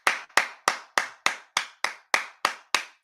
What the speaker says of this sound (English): I got to first of all give a round of applause